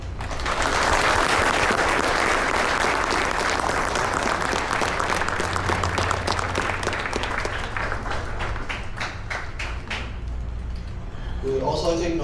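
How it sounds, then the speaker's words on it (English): A school audience at a JROTC 9/11 ceremony at Tracy West High School applauds its guests: dense, sustained clapping from a crowd that gradually thins into separate, scattered claps toward the end. "Please give a round of applause for our guests."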